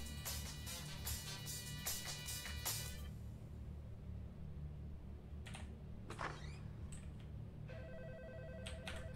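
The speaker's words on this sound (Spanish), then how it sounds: "El teléfono." Telephone ringing inside a video game, a strict hotel guard horror game: repeated bright electronic ring bursts in the first seconds, then quieter later rings over a steady low game hum.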